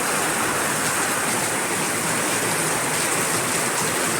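Heavy rain pours down steadily, a dense, loud, continuous hiss of water with no pauses and no voices.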